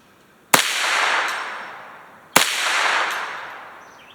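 Two sharp rimfire rifle cracks from a Ruger 10/22 topped with a BSA Sweet 22 scope, each followed by a long ringing decay as the shot strikes a steel plate 150 yards out, spaced about two seconds apart outdoors with no talking.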